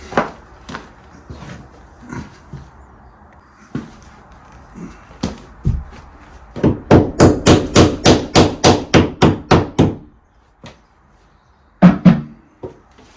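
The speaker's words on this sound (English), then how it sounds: "It's a nail. I need to go and get my hammer." Hammer blows on a nail: scattered taps, then a fast steady run of a dozen loud strikes, a pause, and a final few hits, close by.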